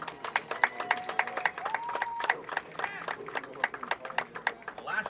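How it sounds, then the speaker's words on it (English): A crowd at a flag football championship ceremony bursts into scattered, lively clapping that keeps going with a rhythmic rattle, mixed with cheering voices and a few whistle-like calls. "Everybody give them a round of applause,"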